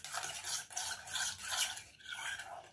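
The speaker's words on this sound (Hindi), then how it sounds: "और इसको अच्छे से मिक्स करेंगे" Knorr soup powder stirred into water in a cooking pot, a steady close scraping and swishing that runs continuously with brief pauses, no voices.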